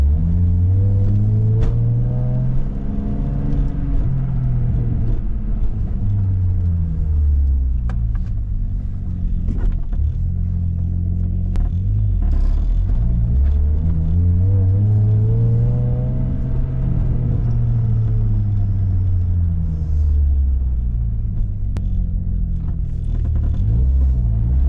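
A 500hp single-turbo BMW 335i on a test drive pulls hard: a loud, steady engine drone rising and falling in pitch through repeated acceleration runs, heard from inside the car with no talking.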